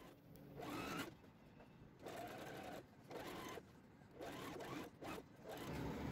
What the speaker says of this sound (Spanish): El siguiente paso sería coser el tiro delantero y espalda. Y cosemos a un centímetro.